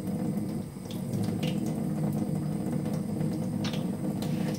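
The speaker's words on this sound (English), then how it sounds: "I'm just rinsing it." Fingers are rinsed under a running tap, giving a steady splashing flow of water into a sink with a low rumbling undertone and a few light splatters as the hand moves through the stream.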